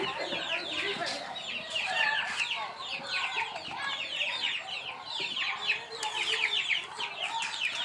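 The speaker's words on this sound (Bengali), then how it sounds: "এগুলো হচ্ছে টাইগার মুরগির বাচ্চা এটা" A flock of tiger chicken chicks on a poultry farm peep and cheep nonstop, many high chirps overlapping up close at a lively, busy pace.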